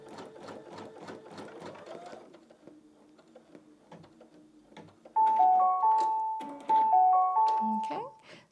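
A Brother V3 LE embroidery machine stitches an outline frame with fast, even mechanical ticking, close and steady. Electronic beep tones chime near the end.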